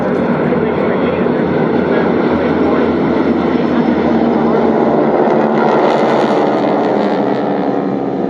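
A North American T-28 warbird's propeller engine drones steadily at close range during arrivals at EAA AirVenture 2024, a loud continuous roar with a voice faintly audible beneath it.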